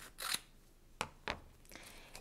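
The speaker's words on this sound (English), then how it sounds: "I'm just gonna cut a little piece here like this" Scissors cutting a small piece of masking material for card stamping: several crisp snips close by, quiet, with short pauses between cuts.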